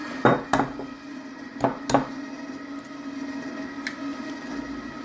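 Electric mixer beating eggs into chocolate oatmeal cake batter, a steady motor whir punctuated by several sharp clacks of the beaters knocking against the bowl.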